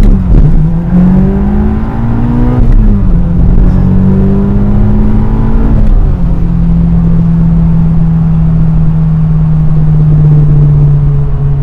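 A Mazda 6 engine accelerating hard through several gears, a loud, close interior drone that climbs in pitch, drops briefly at each shift, then settles into a steady high-revving hum.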